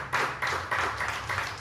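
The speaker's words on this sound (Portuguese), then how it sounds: "Você pode aplaudir a Ele?" A church congregation applauds together in steady, loud clapping with rhythmic surges of hands throughout, close and filling the room, with no talking over it.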